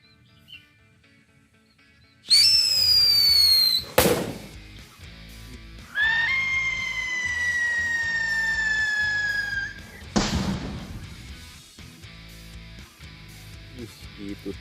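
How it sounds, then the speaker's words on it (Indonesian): Two loud Whistling Thunder firecrackers shriek with falling tones, each ending in a sharp bang, followed by faint crackling. "paling kenceng petasan Whistling Thunder"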